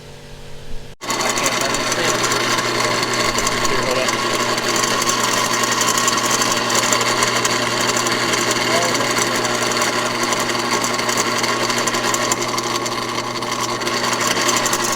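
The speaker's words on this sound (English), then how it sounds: "Now we just need to drill a hole" A power drill whirs steadily and loudly for the whole stretch, drilling a hole during a VW Rabbit pickup rebuild, starting abruptly after a brief moment of quiet, with a constant mechanical hum underneath.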